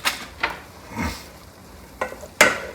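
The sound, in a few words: stirring penne pasta with melting mozzarella in a pan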